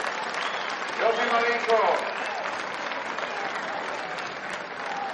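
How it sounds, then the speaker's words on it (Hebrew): A basketball crowd applauds a substituted player, Marinkovic, at a game between Hapoel Akko and Ramat HaSharon, with sustained, fairly close clapping throughout and a voice briefly speaking over it near the start. "כפיים למרינקוביץ', חבר'ה!"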